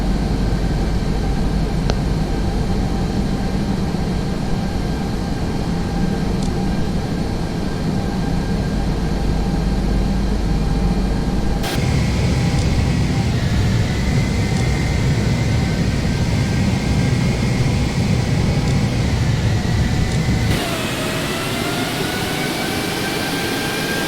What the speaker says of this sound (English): I'm gonna taxi now to runway.